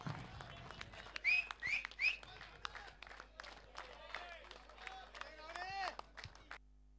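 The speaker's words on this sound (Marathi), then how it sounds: "एकदा जोरदार टाळ्या होऊन जाऊ द्या अंकित यांच्यासाठी" Audience applause for the best batter of the tournament at a local cricket prize ceremony, brief bursts of clapping and a few whistles mixed with a voice talking over a PA.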